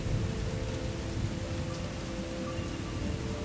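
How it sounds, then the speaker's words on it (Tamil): Rain falls steadily, a constant hiss with low rumbling and no voices. "வந்த இடத்துல மழை பெஞ்சது"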